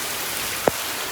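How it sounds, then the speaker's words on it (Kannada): Steady rain falling, a dense even hiss throughout with one brief sharp tap or splash standing out near the end. "ಮಳೆ ಬರುವ"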